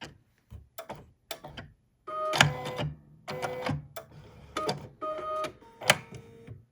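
A sewing machine over-stitches a jeans hem in short bursts, with a few quick clicks followed by several longer whirring runs of stitching, close and fairly quiet.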